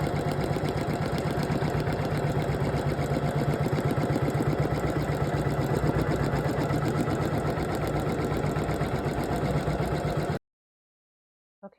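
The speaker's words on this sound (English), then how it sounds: "It's doing the placement stitch. This is also an applique." A Poolin EOC06 single-needle embroidery machine runs an applique placement stitch, a loud continuous rhythmic mechanical whir that holds steady for about ten seconds and then stops abruptly.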